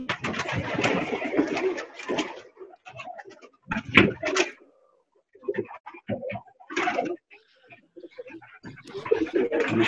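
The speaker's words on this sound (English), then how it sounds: "So this is something like 125 pigeons that in the city I have living in 3 different coops up on the roof." Pigeons coo steadily from about 125 birds kept in three New York-style rooftop coops in the city, with irregular bursts of cooing and fluttering. The sound swells and drops, with a loud cluster near the middle of the clip.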